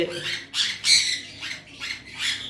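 Violet-type blue conures, a group of three parrots kept as a pair and a single male, give several loud, harsh squawks in bursts at close range, with short gaps between calls.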